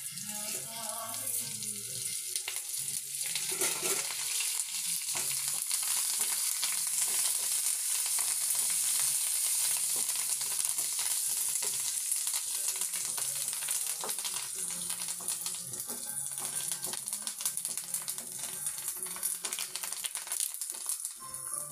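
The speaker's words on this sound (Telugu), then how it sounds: "తాలింపు ఇలా చిట్టపట్టమంటే ఆవాలు జీలకర్ర వేగిపోయినట్టేనండి." Mustard seeds and cumin crackle and sizzle steadily in hot oil for tempering, a dense continuous spattering close by with no talk, made while preparing a village-style gongura and coriander roti pachadi.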